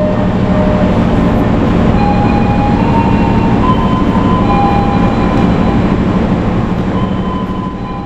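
A train rumbles steadily with a low, continuous roar and faint high squeals from the wheels, the noise easing slightly near the end as it arrives and stops at Surabaya Pasar Turi station, Indonesia.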